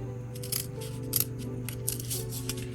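Scissors snip the roof area of a small toy boat build, a few crisp cuts over a steady low hum, close and fairly quiet.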